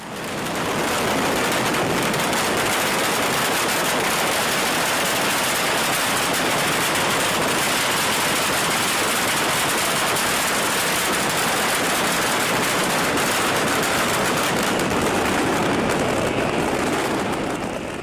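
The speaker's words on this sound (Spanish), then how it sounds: "miles de petardos. miles, muchos petardos que explotan" Thousands of firecrackers strung on lines explode in a continuous dense, loud rattling barrage that lasts the whole stretch without pause.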